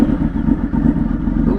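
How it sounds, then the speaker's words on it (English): A fuel-injected Honda VFR 800 motorcycle runs close by, its exhaust giving a steady, throaty, pulsing rumble for a short stretch without pause. "Ooh, that exhaust actually sounds pretty good."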